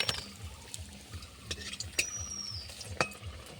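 Potato chops frying in hot oil, a soft steady sizzle broken by sharp metallic taps and scrapes of a spatula or ladle against the pan, close and without talk.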